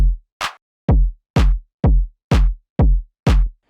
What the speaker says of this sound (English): and my drums sound like this